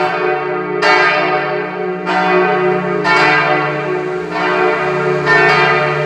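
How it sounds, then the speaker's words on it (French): Church bells toll in slow succession just after noon on 11 November in Pont-à-Mousson, five or six strikes about a second apart, each ringing out and lingering, heard clearly without any voices. "Les cloches elles sonnent."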